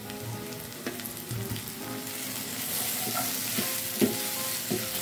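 Galangal and lemongrass with their leaves stir-frying in a pan of cooked spice paste for spicy squid: continuous close sizzling with occasional clinks and scrapes of a utensil, no talk.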